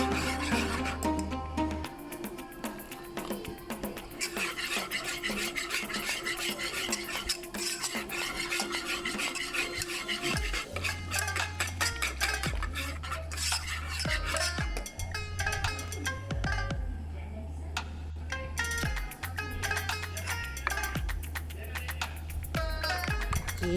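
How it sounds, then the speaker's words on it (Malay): Kuih limas batter is stirred in a bowl until smooth, a long run of steady scraping and swishing strokes over a constant tonal background hum, with the stirring rhythm shifting midway. "Kita bancuh, kita putar sampai dah adunan ni sebati"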